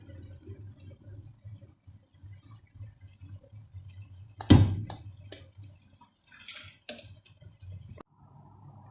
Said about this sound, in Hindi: अभी तो तेज़ आंच है, चूल्हे की तेज़ आंच है और ये चीनी का पानी ड्राई हो रहा है।